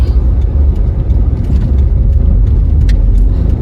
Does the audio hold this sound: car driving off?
yes